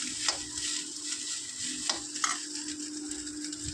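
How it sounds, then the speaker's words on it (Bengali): Egg fried rice sizzling and crackling in a hot pan as it is stirred, a steady soft frying hiss broken by a few brief scraping strokes, close and fairly quiet, with no voices. "যখন এই ভাতগুলো অনেকটা ফ্রাই হতে থাকবে দেখবে চিড়চিড় করে একটা আওয়াজ হচ্ছে"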